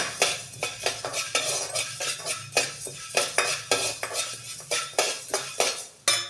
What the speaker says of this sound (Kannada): ಇವಾಗ ಸಣ್ಣ ಉರಿಲಿಟ್ಟು ಚೆನ್ನಾಗಿ ಇದನ್ನು ಹುರ್ಕೋಬೇಕು